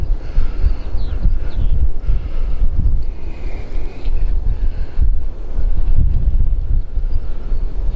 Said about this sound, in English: It's a bit windier this weekend.